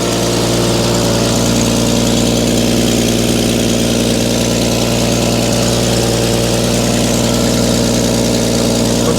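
A Willys engine idles steadily just after a choked start, its loud mid-to-low rumble unbroken and even throughout, with no voices over it.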